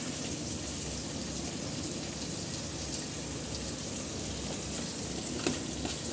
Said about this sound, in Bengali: হলুদ অ্যাড করে আমি একটু সামান্য ভেজে নিচ্ছি